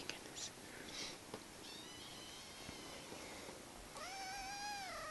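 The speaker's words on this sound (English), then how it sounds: "it's a sleepy, sleepy kitten" A sleepy pet kitten lets out a few faint, thin meows with a rising and falling pitch, close by and under soft, quiet talk.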